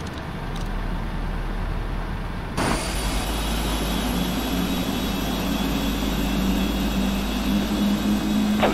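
Jet engines spooling up in the Prepar3D flight simulator during pushback at Cairo, a steady loud turbine roar that steps up partway through and then holds with a rising whine.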